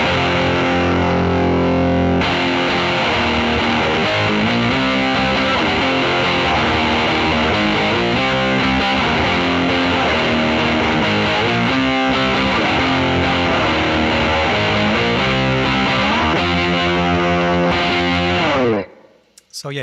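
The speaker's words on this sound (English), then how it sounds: "this is the You Dirty Rat, or the dirty setting on the rotary switch." Electric guitar runs through a JHS PackRat distortion pedal on its dirty setting, a loud, aggressive gritty riff of chugging chords and notes that plays continuously before cutting off at the end.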